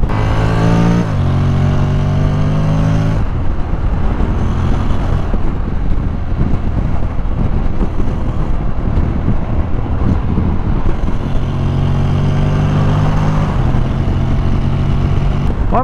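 A Honda X-ADV 750 out on the road sends up a loud engine drone under heavy rushing wind, climbing in pitch at the start and again near the end as it accelerates, with no speech.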